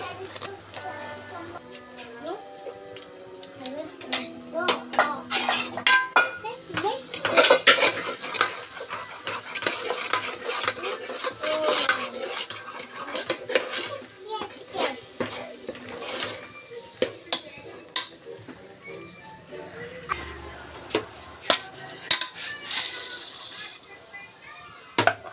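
A utensil stirs and scrapes snake gourd curry (potlakaya) in a pan with chicken masala and garam masala, giving irregular metallic clinks and scrapes over a faint sizzle, with a voice speaking at times.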